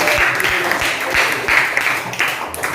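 Classroom applause, a group clapping in steady rhythmic bursts, fairly close and lively, with faint voices mixed in.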